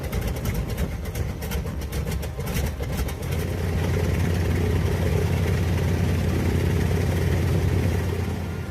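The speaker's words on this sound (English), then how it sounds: "the Curtiss-Wright R1820, a 9-cylinder air-cooled radial engine arranged like the spokes of a wheel" Curtiss-Wright R1820 nine-cylinder air-cooled radial engine of about 1,200 horsepower, the kind fitted to the B-17, running with a rough pulsing throb that settles into a steady, loud, close drone.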